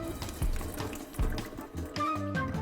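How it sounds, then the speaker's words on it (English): Water splashes and pours while salt is rinsed off salted cabbage for kimchi, an uneven run of splashing and trickling with a few soft knocks, close and fairly quiet. "So what we need to do now though is rinse all that salt off."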